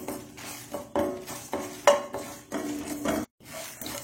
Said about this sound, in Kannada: ಇನ್ನು ಸೋಂಪು ಇಷ್ಟನ್ನು ಹಾಕೊಂಡು ಇದನ್ನು ಸಣ್ಣ ಉರಿಯಲ್ಲಿ ಹುರಿಯುವ